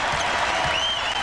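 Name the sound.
basketball arena crowd standing and cheering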